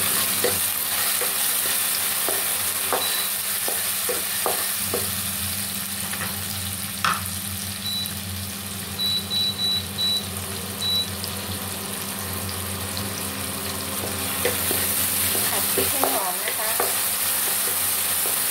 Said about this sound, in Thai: ตั้งกระทะนะคะใส่น้ำมันค่ะแล้วนำพริกเหลืองไปผัดค่ะ